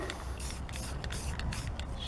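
Aerosol can of Rust-Oleum rusty metal primer sprayed onto rusty parts of a Chevrolet Tahoe rear wiper arm, heard as several short, close hissing bursts with brief gaps between them.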